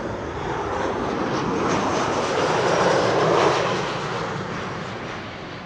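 A Boeing 777 passes at Amsterdam Schiphol Airport, its engines making a broad, steady roar that swells toward the middle and eases slightly as it moves on, with no voices.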